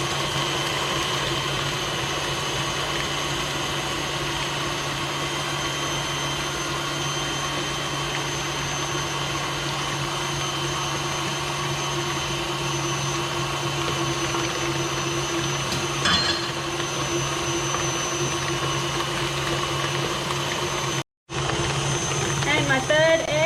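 Electric mixer whipping butter, sugar and eggs for an apple custard tea cake, a steady whirring motor hum with a constant pitch, running unbroken before a brief cutout near the end, with speech over it.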